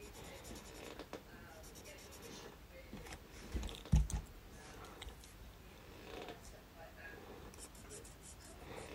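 A pencil drawing eye lines on paper, with faint scratchy strokes and a few soft taps close to the microphone, heard under quiet talking.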